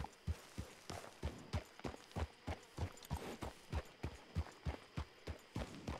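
Steady, even clip-clop of hooves on a hard surface, a horse walking at a regular pace, fairly close, no voices.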